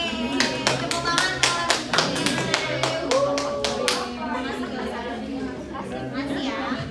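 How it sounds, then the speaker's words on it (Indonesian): Students in a classroom clap in a lively burst of sharp handclaps for about four seconds, which then tapers off into chatter and voices. "Yeay, tepuk tangan"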